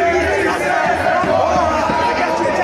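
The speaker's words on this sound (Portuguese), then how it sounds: "Na saída dos jogadores, os torcedores protestaram, pediram raça aos atletas." Football fans protest loudly as the players leave the stadium, a dense crowd of shouting and chanting voices that stays loud throughout before cutting off abruptly.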